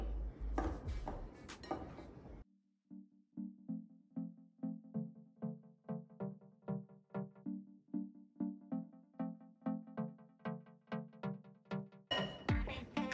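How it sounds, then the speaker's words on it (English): A pastry blender is worked through cold butter and shortening in flour for pie crust, giving about a dozen regular close thuds and scrapes in a steady rhythm, framed by louder clattering at the start and end. "Now I'm gonna use my dough separator to just mix the flour and the butter and shortening until it's crumbly."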